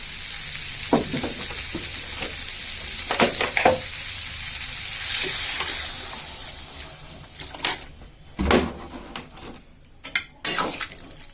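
A vegetarian soybean curry sizzles in a pan as water is poured in, and the sizzle swells into a rushing hiss. Scattered clinks and scrapes of a spoon against the pan sound nearby.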